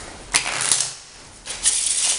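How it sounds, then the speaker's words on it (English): A pack of playing cards being riffle-shuffled by hand, two quick bursts of crisp rapid flutter close to the listener, with no talking. "So I've got a pack of cards here, right? I might just give them a shuffle."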